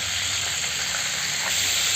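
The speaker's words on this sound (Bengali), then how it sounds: "এই চিকেন ভাজা একই তেলের মধ্যে আমি গোটা গরম মশলা দিয়ে দিলাম।" Whole garam masala hitting hot oil left over from frying chicken, giving a steady, close hiss and sizzle with no talk.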